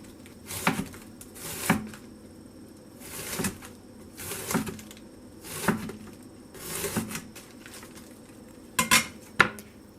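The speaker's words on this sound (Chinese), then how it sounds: "我们就把菜切成丝" A knife slices fresh, crisp cabbage into shreds on a cutting board for homemade sauerkraut, giving about ten separate crunchy chops spread unevenly over ten seconds, close and clear, with soft board knocks and no talking.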